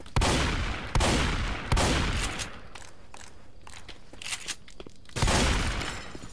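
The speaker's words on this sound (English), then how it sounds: "Wooden shotgun." Wooden shotgun from a Left 4 Dead 2 weapon mod firing in loud, close blasts, three evenly spaced shots, then a stretch of clicking reload and handling noises before a final booming shot.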